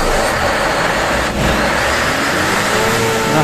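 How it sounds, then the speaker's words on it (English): Scania DI16 V8 diesel emergency generator starting up: a loud, close engine roar runs throughout with a brief dip partway, then settles into a steady, heavy running drone. "As the engine starts up, then you can feel the engine driven fan pulling the air in over the engine to help keep it cool."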